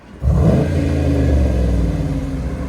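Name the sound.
V8 muscle car engine revving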